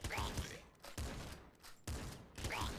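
Gunfire from the video game Nuclear Throne comes in three quick bursts of punchy synthetic shots, each a sharp thump followed by a brief tail, fairly loud and up close.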